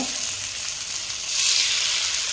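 Steady, bright sizzling of masala-coated fish frying in hot oil, street-style, close up, with a slight surge in intensity partway through.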